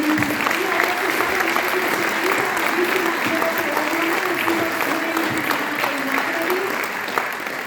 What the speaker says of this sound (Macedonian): може еден аплауз за сите